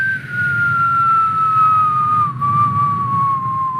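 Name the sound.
whistled imitation of a rock dropping from a distance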